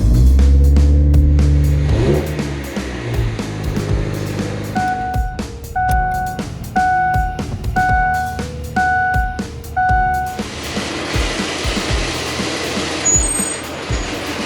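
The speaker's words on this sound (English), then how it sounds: "pull the Civic out here, play a little musical cars, bring the Explorer in here" A Honda Civic and a Ford Explorer shuffle in and out of a snowy garage: a car engine idles and revs low, then a rhythmic series of repeated beeping tones sounds, followed by broadband rumbling of a vehicle moving close by.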